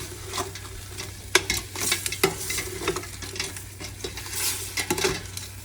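Crab pieces are tossed and fried in a pan, with a dense, continuous sizzle under repeated utensil scrapes and metallic clanks against the pan.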